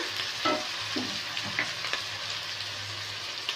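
Ginger, tomato, cumin and coriander fry in a pan with a soft, steady sizzle, with a few light stirring scrapes and taps close by and no talk.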